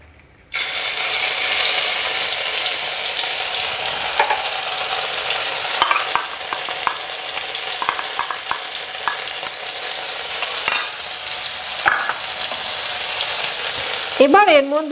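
Ground green pea paste hits hot oil in a pan with a sudden loud sizzle, then keeps frying in a steady crackle broken by scraping stirs and clicks, close up and without talk.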